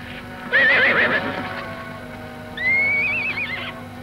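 Two horses whinny in turn, shrill and wavering, one after the other, over a steady low hum.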